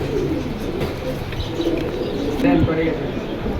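Pigeons coo at a busy outdoor pigeon market, soft low calls repeating near and far under people talking nearby.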